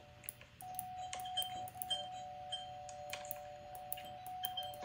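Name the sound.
doorbell ringing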